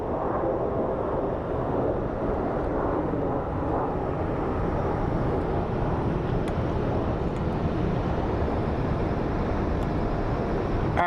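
An Embraer 135 regional jet at Phoenix Sky Harbor airport gives a steady, broad jet roar that holds evenly throughout, with wind buffeting the microphone and no talking.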